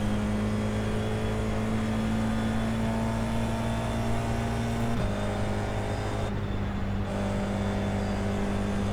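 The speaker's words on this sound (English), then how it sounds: "I let another lap car go by because why not?" Race car engine noise from the iRacing sim, an F4 car at Road Atlanta, as another lapping car goes by: a steady, loud droning engine tone that shifts pitch midway, with no talk.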